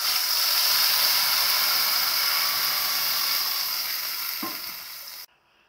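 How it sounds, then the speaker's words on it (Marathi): A raw paste of tomato, onion and garlic with masala fries in oil for an egg curry, producing a loud, dense hiss that fades slightly and cuts off abruptly near the end. "आपल्याला तेलामध्ये चांगला मस्त असा परतून घ्यायचा आहे."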